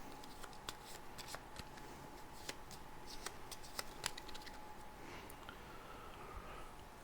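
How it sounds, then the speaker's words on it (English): Quiet, close riffle-shuffling of the monster card deck from the Scooby-Doo! board game by CMON, with sharp repeated card snaps and soft flutters over a faint room hum. "We have a monster deck, which is also going to be shuffled up and placed on the board"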